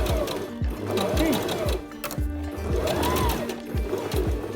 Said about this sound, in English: we will stitch it from here till down, back stitch and stitches